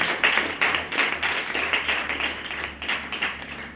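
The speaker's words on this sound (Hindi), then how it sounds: "जोरदार ताली होनी चाहिए गुरु जी के लिए।" A short burst of audience applause for a guru at a talk, many hands clapping in quick uneven patter that stays moderately loud throughout.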